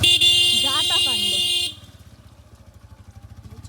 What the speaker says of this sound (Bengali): ভাবলাম বাইকে করেই যাই